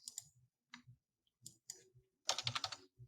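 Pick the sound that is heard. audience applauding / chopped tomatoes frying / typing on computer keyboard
typing on computer keyboard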